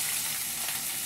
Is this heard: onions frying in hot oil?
yes